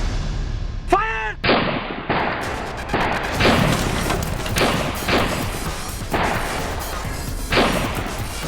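Gunfire in a dramatised police shootout: a rapid string of loud, close booming shots and crashes that repeat every second or so over a dense, noisy background, opening with a brief whistling sweep.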